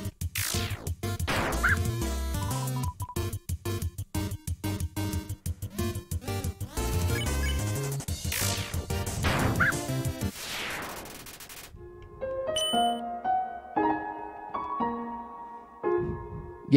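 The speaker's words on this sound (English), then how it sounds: "I'm gonna fight the dog." Dog barks from the Undertale video game come in quick, loud bursts over busy chiptune-style game music and battle sound effects, with no talking.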